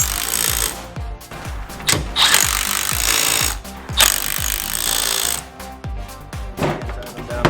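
Loud, rapid metallic ratcheting and impact-tool bursts tighten 17 mm nuts on a 2006-2019 RAM 1500 MotoFab 2.5-inch front leveling kit, coming as repeated clattering pulses with short pauses between runs, close and alone.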